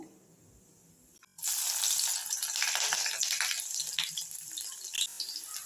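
Five crushed garlic cloves hit hot oil with fennel and burst into a loud, steady sizzle that crackles on after a quiet moment, close and continuous, with no voices.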